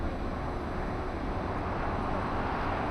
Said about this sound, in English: when there's a lot of airplane noise